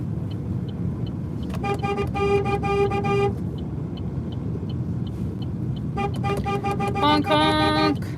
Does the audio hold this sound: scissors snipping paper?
no